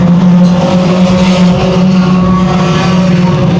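Stock cars racing around the Evans Mills Raceway Park track in a Sport Compact/Thunder Stock feature, a loud continuous engine roar from several cars passing close with shifting pitch throughout.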